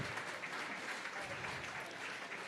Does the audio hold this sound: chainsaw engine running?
no